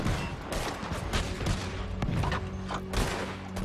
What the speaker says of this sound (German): Wir schießen ja so schnell wir können